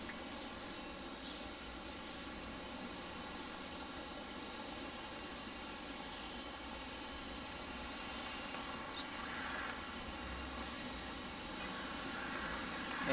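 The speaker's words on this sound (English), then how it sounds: "Looks like we got a couple of Spirit arrivals, an Airbus A319 and then an Airbus A320 from Orlando" Spirit Airlines Airbus A319 and A320 jets arriving at Detroit airport produce a steady, distant engine roar that slowly swells louder across the stretch, with no voices.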